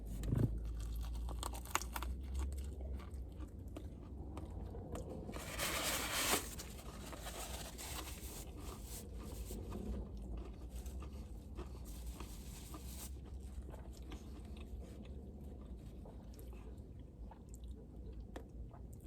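Someone bites into a crunchy Dave's Hot Chicken sandwich with fried chicken, cheese and relish and keeps chewing quietly up close, with one louder crunch early on and soft, steady mastication.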